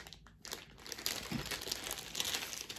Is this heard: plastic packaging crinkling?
yes